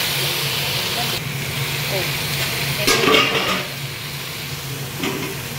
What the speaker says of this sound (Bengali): চলো পেঁয়াজটা এবারে লাল করে একটু ভেজে নেব।